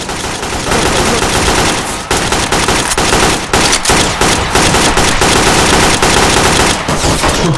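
Sustained automatic gunfire in a video game hostage situation, loud rapid bursts rattling almost continuously with brief gaps.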